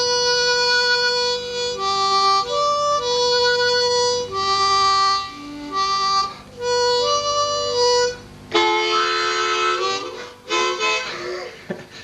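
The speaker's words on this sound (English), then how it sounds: "This is actually a blues harmonica" A blues harmonica with vibrating internal reeds plays a melodic line of reedy held notes and short bends, ending in bursts of chordy, breathy blows, close and clear with no talking.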